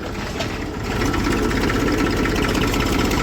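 A vehicle engine runs steadily in top gear, giving a loud, low, rumbling drone with constant vibration that grows slightly heavier after the first second, with no talking.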